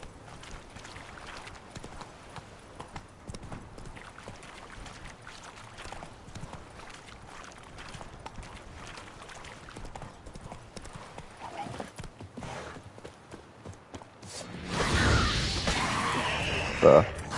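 Roach the horse gallops in The Witcher 3: Wild Hunt, a steady run of hoofbeats lasting most of the stretch, followed by a louder, noisier burst toward the end.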